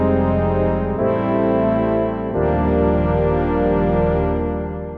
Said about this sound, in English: For example, this warm ensemble sound.